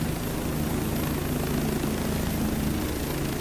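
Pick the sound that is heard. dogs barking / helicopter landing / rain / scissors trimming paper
helicopter landing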